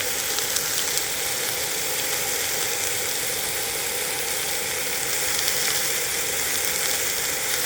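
Green onions frying in oil on an Anseong cast-iron griddle outdoors during a pork belly cookout give a steady, loud, crackling sizzle that holds evenly throughout, with no voices over it.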